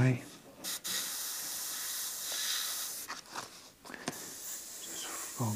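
Airbrush spraying dark paint in 1940s vintage style, a soft continuous hiss of fine spray with brief gaps and bursts as the trigger is worked, fairly quiet and close.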